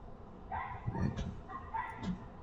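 A dog barks indoors during an airbrushing art session: two short bursts of yipping, whining barks, a little distant and fairly soft, with no one talking over them.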